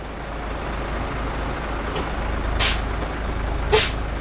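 Air brake hiss from an Isuzu Rocky 10-wheel truck with a 195 hp engine, heard as two sharp bursts of released air near the end, loud against a steady idling engine rumble with no talk.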